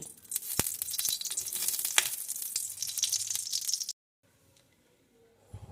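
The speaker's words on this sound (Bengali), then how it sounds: "এই কড়াইয়ের ভিতরে দিয়ে দেব এক চামচ ঘি" Bright crackling sizzle from a spoonful of ghee in a hot wok, steady and close for a few seconds, then sudden quiet before faint clatter.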